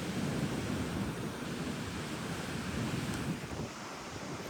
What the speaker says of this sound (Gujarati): એક જ ધારો કન્ટિન્યુ મોજો આવે આવે આવે ને આવે યાર